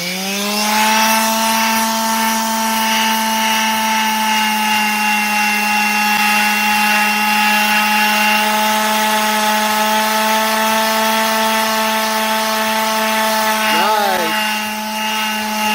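A power sander with 220-grit sandpaper whines steadily against a wooden guitar body, a constant droning hum with a brief shift in pitch near the end.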